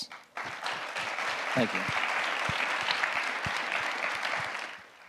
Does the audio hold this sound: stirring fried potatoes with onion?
no